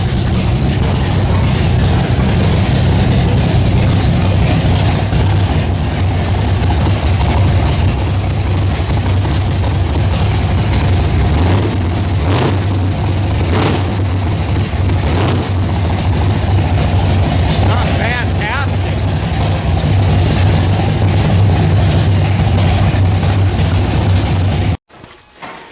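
A 1971 Corvette with an LS6 V8, restored to stock, runs steadily in winter: a loud, continuous low engine rumble near the listener that holds even for about 25 seconds before cutting off abruptly.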